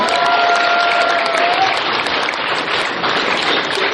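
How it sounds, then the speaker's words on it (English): A large audience at an anime convention applauding, a dense, loud, continuous wash of clapping that holds steady throughout, with a brief whistle-like tone early on. "big round of applause again for Danielle for winning."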